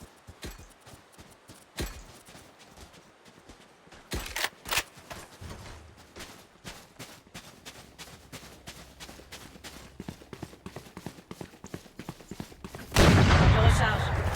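Gunfire in the video game Valorant: scattered sharp shots and clattering steps, a tighter cluster of rapid shots midway, then a loud sustained burst of fire at the end.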